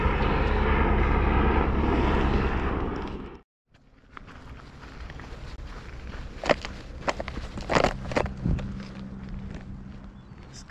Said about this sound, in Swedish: Jag hör en helikopter komma här över Saltströmmen.